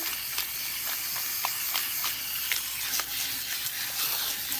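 Running water steadily hisses and splashes as hair with K-tip extensions is rinsed, a soft continuous spray with faint drips and pattering, fairly quiet and close.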